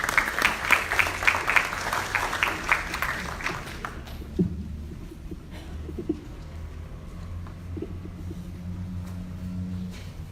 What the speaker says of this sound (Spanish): Le damos un buen aplauso al señor Elio Béjar, por favor.